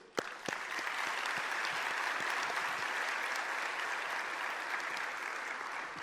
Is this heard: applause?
yes